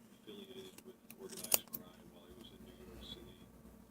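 Scissors snip through yarn wound between two boards while a pom-pom is being made, giving quiet, close clicks and one sharper cut.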